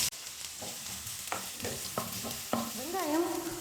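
A large chopped onion sizzles in hot oil in a kadai while being stirred, a steady close frying hiss broken by scraping stirs and clanks against the pan.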